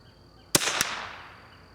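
A single rifle shot fired with RWS target ammunition cracks sharply nearby, with a quick second impact or echo and a long decaying reverberation across an outdoor range.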